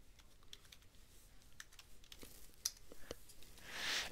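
Quiet, sparse clicks of a computer keyboard as a message is typed, irregular keystrokes close by, with a brief hiss at the end and no talk.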